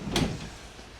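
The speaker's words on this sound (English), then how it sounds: "So we've got sliding doors" The sliding side door of a Citroen Berlingo 1.5 BlueHDi diesel panel van gives one quick sliding rush and thud that fades within a second.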